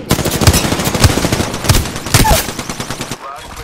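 Bursts of rapid automatic gunfire from an Apex Legends match crack loudly and close, with several sharp volleys in a row and a brief pause near the end.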